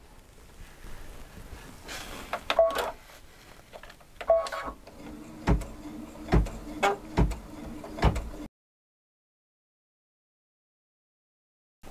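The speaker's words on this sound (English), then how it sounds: "Let's do some two-sided embroidery." An embroidery machine stitches a two-sided design, with quiet mechanical whirring and a run of evenly spaced, louder needle thumps before the sound stops abruptly into silence.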